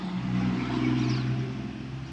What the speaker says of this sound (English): we got a loud-ass car right now